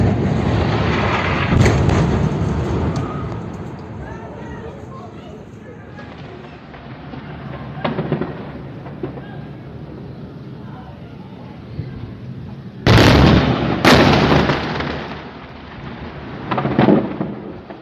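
Israeli missile strikes on Khan Younis in Gaza: deep, rolling explosions rumble at a distance, with two louder, closer blasts near the end over a continuous low roar.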